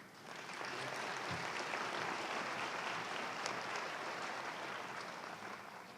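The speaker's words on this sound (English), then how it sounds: "Please give Rhonda another round of applause." A commencement crowd gives Rhonda another round of applause at a fall 2018 afternoon ceremony: dense, steady clapping that swells quickly and holds evenly for several seconds.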